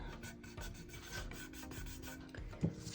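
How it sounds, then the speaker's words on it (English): Excess vinyl being trimmed off a fall plaid and floral glitter tumbler: close, steady scratchy rasping strokes that run continuously, then one sharper knock near the end. "I'm going to trim off this vinyl, just the excess."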